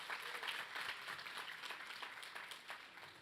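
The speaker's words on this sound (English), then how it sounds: "We can give her another round of applause," A church congregation gives a round of applause, dense, moderately distant clapping from many hands that holds steady for the whole stretch without any voices.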